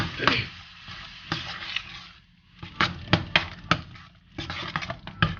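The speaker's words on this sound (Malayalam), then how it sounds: "ഇനി ഈ തേങ്ങയും പെരിഞ്ചീരകവും കൂടെ നമ്മുടെ ഈ മസാലക്കൂട്ടിൽ നല്ലോണം മിക്സ് ചെയ്യണം." Coconut and fennel seeds being stirred into a fish curry masala, with soft scraping and tapping from a spoon against the pan in uneven bursts, close by with brief pauses.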